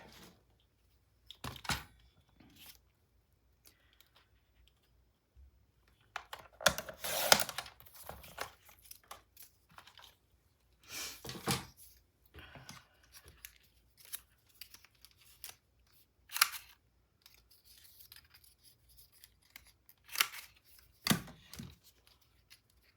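Scissors cutting paper for a scrapbook mini album, short snipping and crisp paper rustles in scattered bursts with quiet gaps between, close and fairly faint.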